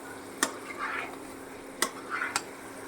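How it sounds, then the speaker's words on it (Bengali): Fried chicken pieces are stirred with spices in a pan. A utensil gives three sharp knocks against the pan, with soft scraping and faint sizzling between them. "মশলার সাথে ভালো করে নেড়ে চেড়ে মিশিয়ে নিব"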